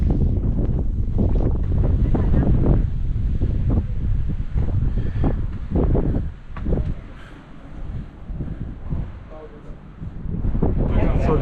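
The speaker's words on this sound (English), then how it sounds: "It's more windy on this side than on the other." Strong gusts of wind buffet the microphone in irregular rumbling bursts at Palácio da Pena in Sintra, Portugal, loud and close, easing briefly before picking up again.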